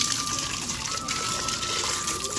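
Water poured over feet during washing, a continuous close splashing gush lasting the whole short stretch.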